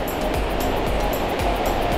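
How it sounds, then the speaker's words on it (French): Waterfalls cascade at Fontaine de Vaucluse, a spring gorge crowded with visitors, giving a constant broadband rush of falling water with faint rhythmic surges and no speech. "Il y a des cascades partout là, tout le long."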